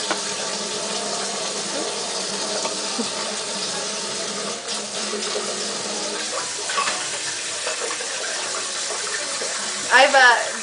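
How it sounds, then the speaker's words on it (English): A kitchen tap runs steadily into a sink for several seconds, a broad even rush of water that continues to the end, broken by a brief clatter near the close. "let me just run the tap here a little bit"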